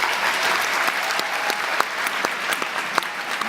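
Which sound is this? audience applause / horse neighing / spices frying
audience applause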